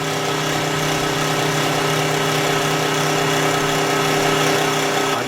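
A tractor engine runs steadily just after starting in a repair shop, a loud, even mechanical drone with a constant humming tone and no break or speech throughout.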